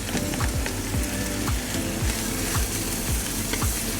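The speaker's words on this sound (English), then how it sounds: "our vegetables have been sweating now for about 5 minutes or so" Chopped onion, green bell pepper and deseeded jalapeno sizzle steadily in a Dutch oven on a pellet grill, a constant close frying hiss with a regular scraping rhythm of stirring and no voices.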